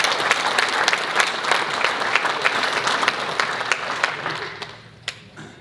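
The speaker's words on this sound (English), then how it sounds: "Give yourselves a round of applause." Applause from the audience at an awards banquet, a dense sustained clapping from a large crowd that fades toward the end, with a few last isolated claps.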